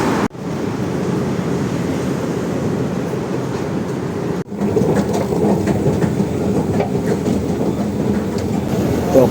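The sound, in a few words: MRT train passing in Manila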